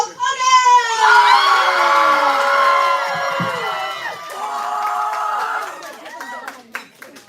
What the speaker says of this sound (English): please give a big old round of applause for Maidol Puga!